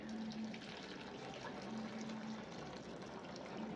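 Liquid pours steadily while Cameroonian okra soup is being made, a soft continuous watery rush that stays faint and even throughout with no talking.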